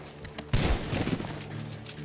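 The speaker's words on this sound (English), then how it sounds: "The gunshots are coming from that barn." Gunfire from a barn in Red Dead Redemption 2 erupts as a sudden loud burst of several overlapping shots, then rolls on in a rough, rumbling volley with heavy low booms, after a quieter opening with a few soft thuds.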